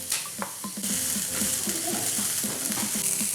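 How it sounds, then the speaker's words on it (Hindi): Chicken fries with garlic in a pan for spring roll filling, a loud, steady sizzle with rhythmic scraping and tapping as it is stirred and sautéed. "अब हम इसमें चिकन शामिल कर लेंगे और इसको इसमें भून लेंगे।"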